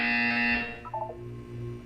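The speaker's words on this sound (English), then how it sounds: "When you hear the buzzer, look down at the floor." A loud electronic buzzer from the Portal 2 game sounds as a steady harsh tone for about half a second, followed by a brief softer chiming blip and a low lingering hum.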